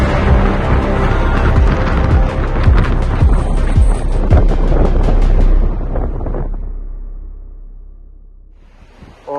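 Heavy, roaring wind buffets the microphone with loud low rumbling and gusts on a road in Argentina, then eases off toward the end, leaving quieter rushing air.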